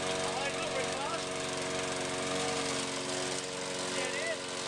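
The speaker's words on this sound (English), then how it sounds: "We've got the lawnmower going." A lawn mower engine runs steadily at a moderate, not very fast speed throughout, a loud continuous drone with harmonic hum close to the mic, while a person talks over it.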